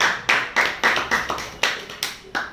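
A classroom of students claps together for a good answer, about nine sharp bursts of applause in an uneven rhythm, loud and close, with no talking.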